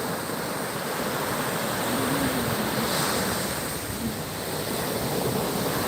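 Ocean surf at Pensacola Beach rolls in as a continuous broad wash of breaking waves, steady and moderately loud, with light wind buffeting the microphone and no voices.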